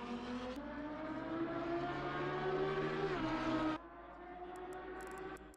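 Lamborghini race car engine in Assetto Corsa Competizione, a steady droning tone climbing in pitch before dropping abruptly to a quieter, lower hum.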